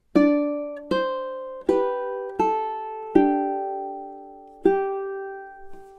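A plucked ukulele plays a slow melody of about seven single notes from the French folk song "Au clair de la lune", each ringing out briefly before the next, clear and close with no voices.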